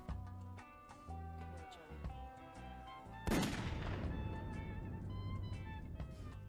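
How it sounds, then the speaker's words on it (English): A single loud gunshot bursts out of a film scene partway through, a sharp crack followed by a rumbling decay under a continuous soundtrack of tonal music. "And then shoots himself in the head."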